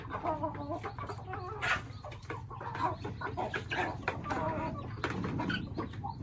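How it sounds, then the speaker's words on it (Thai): Several backyard chickens of mixed breeds cluck and chatter continuously nearby in a pen, with overlapping calls and occasional louder squawks over a low background hum. "ไก่คอกนี้มีหลายสายพันธุ์นะคะ"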